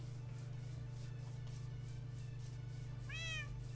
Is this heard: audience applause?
no